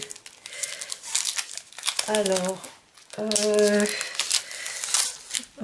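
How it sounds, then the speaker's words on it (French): Plastic packaging on a paper craft set crinkles and crackles as it is handled and pulled open, with a short spoken word near the start and squeaky rustling bursts. "déjà, ça s'ouvre un petit peu bizarrement, cet emballage"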